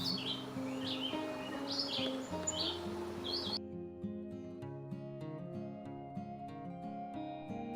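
Songbirds at a wildlife refuge, with red-eyed vireo and summer tanager present, give repeated short chirping phrases at moderate distance. A sustained, steady musical tone plays underneath, and the birdsong drops out midway.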